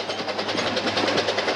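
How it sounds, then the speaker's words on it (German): Rhythmic chuffing of a cartoon steam locomotive, regular puffs repeating quickly over a steady low rumble, fairly loud and close. "höre ich in der Ferne das heftige Schnaufen einer Lokomotive."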